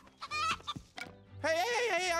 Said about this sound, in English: I just finished herding those chickens